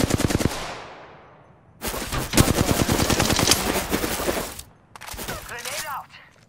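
Rapid automatic gunfire in the Apex Legends battle royale shooter, loud and close, bursting in three volleys with short gaps, the middle burst longest and densest.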